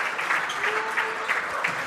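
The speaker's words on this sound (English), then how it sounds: "the 3 seniors go out together so they can get a big round of applause from the crowd" Steady crowd applause in a gym at a high school basketball game as the seniors come off the court together, continuous clapping with no talk over it.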